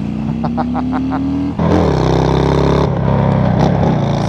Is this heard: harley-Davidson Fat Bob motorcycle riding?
yes